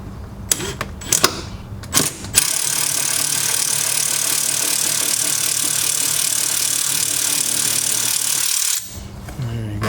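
A magnetic socket on a power tool whirs steadily, removing bolts from a Porsche 996/986 frunk latch. A few clicks and knocks come first, then a loud continuous buzzing run that stops abruptly near the end.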